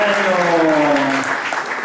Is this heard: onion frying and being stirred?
no